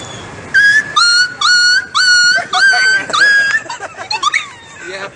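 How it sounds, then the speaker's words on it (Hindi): A dog whimpers and yips in a series of high, wavering whines and short cries, close and loud, tapering into softer broken squeaks toward the end. "एक कुत्ते की आवाज"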